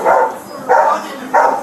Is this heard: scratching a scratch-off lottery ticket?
no